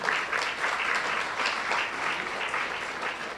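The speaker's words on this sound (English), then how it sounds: "Give them a big round of applause to them." An audience at a New Year's Day celebration applauds in a dense, steady round of clapping that carries on loudly for a few seconds without talk.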